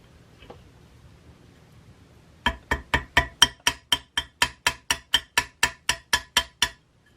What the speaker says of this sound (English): And as I hammer, you can see it's getting to be a little bit bigger.